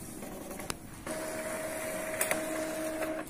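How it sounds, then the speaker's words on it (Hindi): An Epson inkjet printer runs a page with soft mechanical whirring, a sustained whining tone from the carriage and a few clicks, faint and close in a quiet room with no talking. "तो ये देखिए प्रिंट हो चुका है।"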